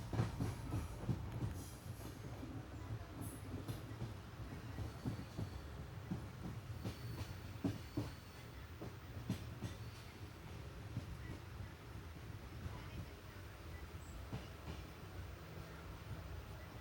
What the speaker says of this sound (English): We are pulling into Kundapura station at 4:48 pm.